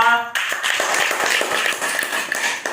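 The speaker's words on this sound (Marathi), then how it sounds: "रिंकू साठी टाळ्या वाजवा" Children clapping for Rinku during a classroom game, a loud, dense burst of many hands applauding steadily together for a few seconds, close by, with no voices over it.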